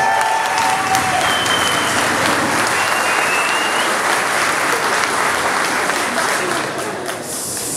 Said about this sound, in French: Vous pouvez encore vous applaudir.